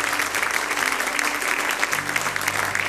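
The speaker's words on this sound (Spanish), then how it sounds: "Denle un aplauso a él, mi hermano" A church congregation applauding at a Sunday service, dense steady clapping from many hands that runs at full strength throughout with no voices above it.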